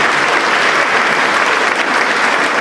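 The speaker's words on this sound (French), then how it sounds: "On peut effectivement les applaudir." Loud, dense applause from an audience at a New Year's greetings ceremony, a continuous even roar of many hands clapping close by with no speech on top.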